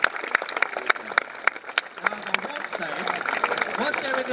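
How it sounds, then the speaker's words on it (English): Audience clapping during a zoo elephant demonstration at an evening event, a burst of scattered applause from a crowd with talk and voices mixed in, fairly close and moderately loud. "Give her a nice round of applause."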